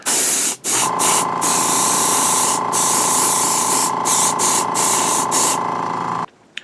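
Spray can applying silver paint to a studio-scale Star Wars probe droid model part outdoors, heard as a loud, steady aerosol hiss in several long bursts with brief pauses, then a sharp stop near the end.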